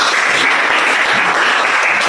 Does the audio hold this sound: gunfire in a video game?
no